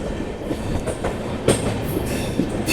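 An Amrit Bharat Express train runs at full speed, a steady loud roar of rolling wheels with rhythmic clickety-clack and brief metallic squeals, heard from inside a coach.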